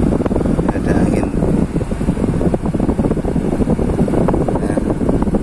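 Air conditioner in a Panther car blowing from the vents, a steady loud broadband rush like a fan running continuously and close to the microphone, with faint talk mixed in.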